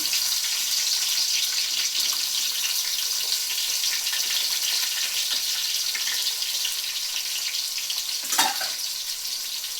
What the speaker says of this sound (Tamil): போட்டு கொஞ்சம் நல்லா வதக்குங்க